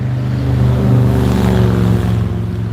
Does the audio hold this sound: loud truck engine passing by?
yes